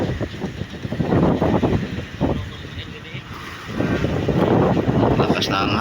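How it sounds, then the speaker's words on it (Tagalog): Strong wind buffets and roars against the microphone in uneven gusts, loud and close, with faint voices mixed in. "Lakas na ang hangin."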